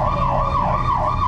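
A coast guard patrol vessel's warning siren wails loud and close in a steady rising-and-falling cycle, repeating several times against a low engine rumble, aimed at fishing boats crossing into its waters.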